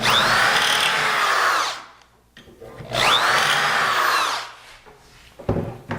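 A power drill whines loudly through wood in two long bursts separated by a short pause, drilling holes in armoire corner pillars, followed by a few clunks and handling noises.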